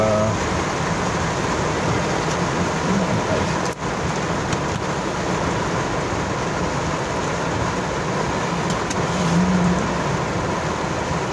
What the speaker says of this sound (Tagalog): heavy traffic po ngayon dito sa Quezon Avenue